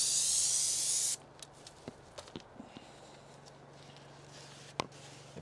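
Stain is sprayed onto log walls in a strong, loud hiss for about a second before stopping abruptly, followed by quiet with scattered light taps and knocks.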